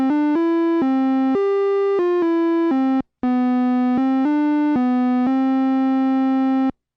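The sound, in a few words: Omnichord OM-84 second melody synth voice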